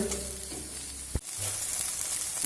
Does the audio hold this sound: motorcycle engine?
no